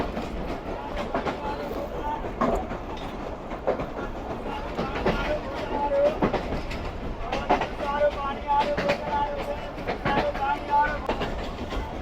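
A train on the Larkana to Kotri railway in Pakistan clatters along the tracks with rhythmic clickety-clack wheel beats over a constant rumble, heard from inside the carriage.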